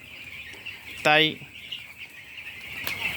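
Broiler chickens on a farm in winter, with one loud, sharp cluck standing out over a constant murmur of flock chatter and faint wing flaps; a person says a word.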